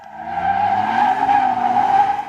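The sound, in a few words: tires squealing on a car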